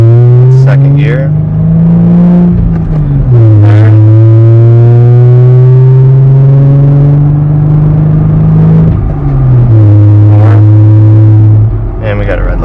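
Loud, droning exhaust of a 2020 Jeep Gladiator with a straight-pipe system, heard from inside the cab while pulling through the gears, its steady low rumble stepping down in pitch at each shift.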